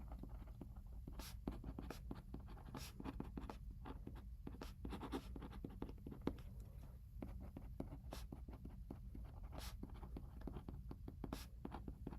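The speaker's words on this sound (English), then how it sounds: "I'm finishing up writing some lyric cards" Pen scratching steadily across lyric cards, close and quiet, with quick irregular strokes and small taps as words are written out, no one speaking.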